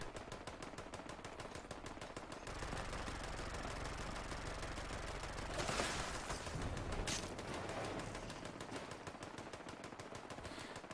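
A legacy anti-armor explosive Gatling plasma in Fallout 76 fires continuously in a rapid, steady stream for the whole stretch, with a heavier explosive swell partway through, fairly quiet in the mix and without speech.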